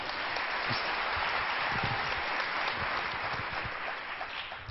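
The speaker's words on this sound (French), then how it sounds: "Elle mérite une belle main d'applaudissements." Audience applause at a Liberal Party of Canada leadership candidates' debate, a steady dense wash of clapping that holds evenly throughout and eases slightly toward the end.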